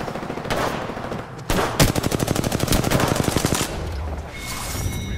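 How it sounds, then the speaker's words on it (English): Rapid bursts of enemy gunfire in a video game: a dense, loud chain of automatic shots that hammers steadily for a couple of seconds with no talk over it. "She's shooting right at me."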